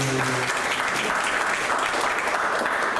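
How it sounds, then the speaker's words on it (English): An audience at a lecture on U.S.-China rivalry and Southeast Asia gives a brief, dense round of applause, steady and close throughout. "Give you a round of applause."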